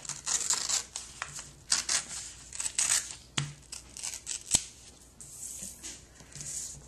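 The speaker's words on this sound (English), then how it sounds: "You can use your fingernails to crease it and just rip it carefully." Creased paper is torn slowly along its fold in short, quiet ripping strokes, with small crinkles and a couple of sharp ticks between them, close by and without speech.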